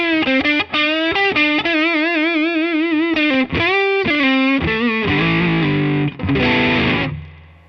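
A 2014 Gibson Les Paul Standard electric guitar plays a sustained riff through distortion, with bent and held notes, vibrato, and a gritty crunchy edge, loud and continuous before fading on a final low note.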